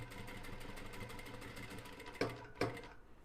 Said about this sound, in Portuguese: levanto o calcador, giro para poder costurar aqui do outro lado, que daí fica uma costura contínua